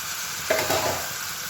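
Washed chicken pieces drop into hot spice paste and oil, setting off a sudden brief sizzle and a soft stirring scrape that fade quickly.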